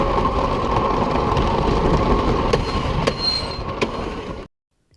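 A wooden roller coaster at Carowinds rattles and roars steadily along its track, loud and close, with sharp clacks and squeals before cutting off abruptly.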